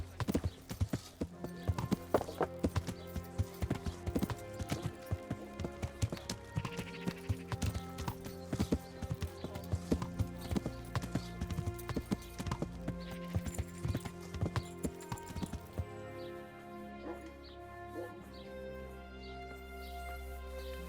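A horse's hooves clip-clop steadily in the medieval role-playing game Kingdom Come: Deliverance, with a brisk, even rhythm over game ambience, a whinny and other animal sounds, and someone talking at times.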